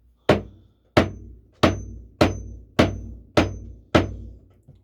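Seven sharp hammer strikes land at a steady pace about two-thirds of a second apart, each a close, loud knock with a short ringing decay, recorded alone in an ASMR-style setting.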